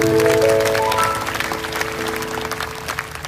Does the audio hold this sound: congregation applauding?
yes